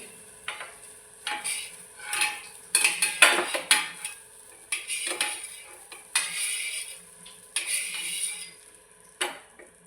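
Fried eggplant slices lifted out of the pan onto a plate, with a series of distinct metallic scrapes, taps and clinks of a utensil against pan and plate, irregularly spaced over several seconds with a faint sizzle in the gaps.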